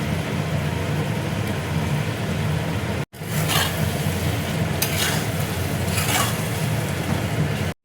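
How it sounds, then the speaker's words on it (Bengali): Spice masala with Kashmiri chilli powder and raisins sizzles and is stirred in a pan for paneer balls, a loud, steady frying hiss with scraping strokes, broken by two brief drops to silence. "মশলাটা দেখো ভালো করে আমি কষিয়ে নেব"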